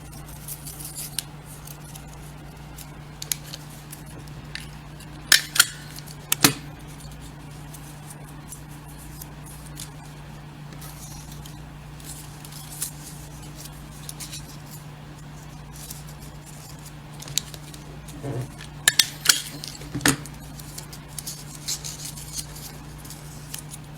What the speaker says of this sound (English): Cut a strip of the green construction paper